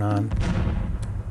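A tank fires its gun in a video game running on an upgraded Compaq 486 PC: a loud, booming broadband blast that rolls on as a rumbling wash of noise for about a second.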